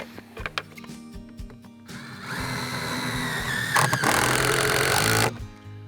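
A drill driving screws through a GRAD starter rail into a stud, one short burst of fastening followed by a longer, steady whirring run, near and loud with no talking.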